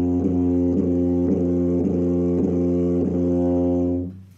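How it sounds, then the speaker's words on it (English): Tuba or euphonium playing a string of six evenly spaced, cleanly tongued low brass notes on a 'toe' articulation, each with a crisp attack, rich sustained harmonics and close, loud tone, then stopping. "the correct way to articulate toe,"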